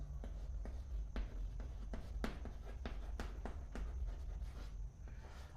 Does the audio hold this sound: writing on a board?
yes